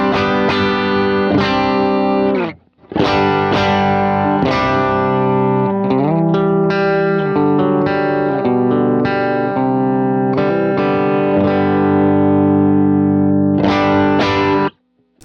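A single-coil electric guitar on the bridge pickup, picked toward the neck, plays sustained distorted chords and riffs, loud and close, with brief pauses between phrases.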